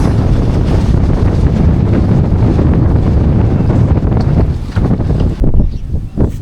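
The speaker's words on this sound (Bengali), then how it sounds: "প্রচুর পরিমাণে বাতাস শুরু হয়ে গেছে" Strong Kalbaisakhi storm wind sweeps across a char on the Jamuna River, roaring and buffeting the microphone in a loud, continuous rush that surges and eases slightly toward the end.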